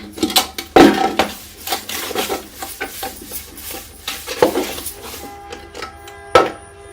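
Metal pots and dishes clatter and clank in a busy household, with sharp, irregular knocks and scrapes overlapping one another close to the listener.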